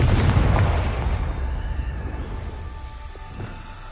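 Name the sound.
blasting curse spell Confringo exploding in video game Hogwarts Legacy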